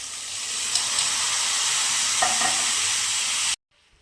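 Sprouted moth beans hitting hot oil with turmeric, coriander powder and green chillies in a pan, giving a steady loud sizzle and frying hiss that cuts off abruptly near the end.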